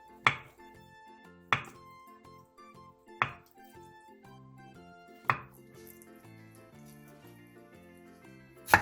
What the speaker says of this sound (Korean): 두부 한 모를 1cm 정도 두께로 잘라주세요